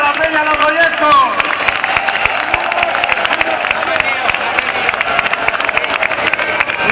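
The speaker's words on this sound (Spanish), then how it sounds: "Un fuerte aplauso para la Peña Los Goyescos." A large crowd at the Fiestas del Pilar 2022 opening proclamation in Zaragoza breaks into sustained applause for a peña club. Dense, steady clapping fills the space, with crowd noise and voices mixed in.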